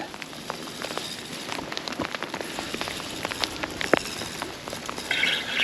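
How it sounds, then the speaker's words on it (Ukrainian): Steady rain patters on a surface at a fishing pond in March, with scattered close drops tapping irregularly throughout; no voices. "Так дощ такий зарядився нормальний."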